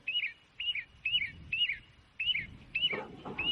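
A cartoon sparrow chirps in a regular series of short, bright, clear calls, about two per second and all at similar loudness, over a faint low rumble of background noise.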